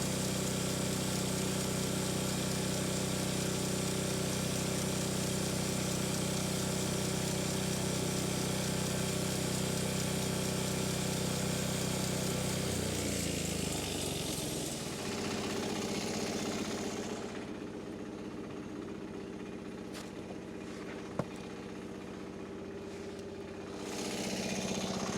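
A chainsaw, recently repaired by welding, runs loud and steady while cutting timber for a timber-framed barn, then drops away after about fifteen seconds to a much quieter background.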